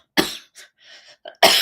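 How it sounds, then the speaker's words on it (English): A person coughs in a few sharp, close bursts with short gaps between them, ending on a final loud cough. "Cough, cough."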